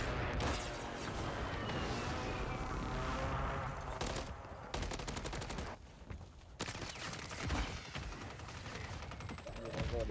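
Gunfire in Call of Duty Warzone on Rebirth Island, dense bursts of automatic fire and rattling shots near and loud, continuing with short gaps under a busy game soundscape.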